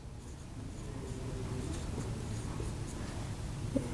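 Pen scratching steadily across a surface while labels are written onto an electrical test board with socket, switch and fuse, a continuous close scraping with faint room noise and no talking.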